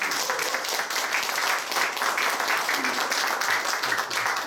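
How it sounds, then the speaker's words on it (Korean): A lecture audience gives dense, sustained applause, many hands clapping together in a steady wash that holds for several seconds at moderate loudness in an indoor hall. "박사님의 뜨거운 박수 한번 주십시오"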